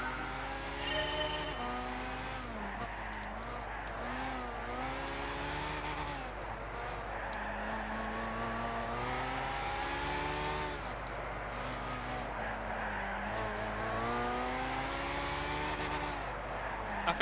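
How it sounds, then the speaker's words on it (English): A Ferrari 458 Italia races at Suzuka on a wet track in Gran Turismo 6, its engine whining and climbing steadily through gear changes in repeated rising sweeps, continuous and moderately loud, with no talk. "At Suzuka with our Ferrari."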